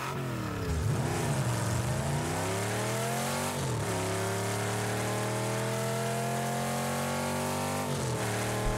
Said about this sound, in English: Now let's listen to the Batmobile 2022.